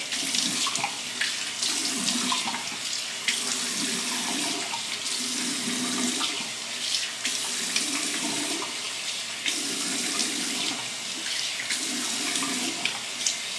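Cold tap water runs steadily into a sink during a face-washing routine, a continuous splashing rush with rhythmic swells as hands scoop and splash, close and fairly loud.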